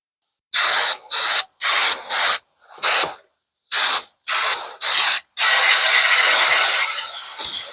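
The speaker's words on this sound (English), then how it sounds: "I should have just hit it with the carb cleaner to begin with." Carb cleaner sprayed onto a Ford oil bath air cleaner comes as a run of sharp hissing bursts, about eight short close blasts in an uneven rhythm, ending in one long sustained spray.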